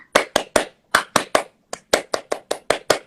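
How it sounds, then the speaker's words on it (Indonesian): Scout-style rhythmic hand clapping in a set pattern: about fourteen sharp, close claps in quick groups of three and pairs with short pauses between, loud and dry, with no voices. "Tepuk pramuka kan, tapi dia nggak tepuk tangan doang. Dia ada ininya nadanya."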